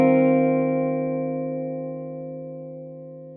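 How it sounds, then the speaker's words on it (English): A sampled guitar chord, a D major 6/9, rings through a Supro spring reverb, sustaining as one loud, rich tone that slowly decays over a few seconds, with no other sounds. "And now let's hear it with the Supro reverb."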